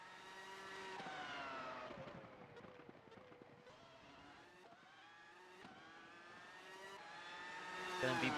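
A race car engine screams through upshifts and downshifts in an online racing game qualifying lap at Aragon, its pitch climbing and dropping steadily with gear changes, loud and continuous, with commentary faintly underneath.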